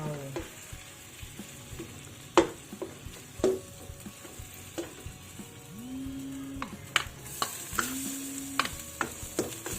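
Nham sour pork stirred in a pot of soup, with soft scraping and clinks of the utensil against the pot over a low simmering bubble, close and quiet, no voices.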